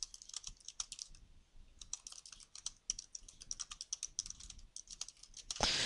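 Quiet, quick typing on a computer keyboard, irregular clusters of light key clicks with brief pauses, close and alone.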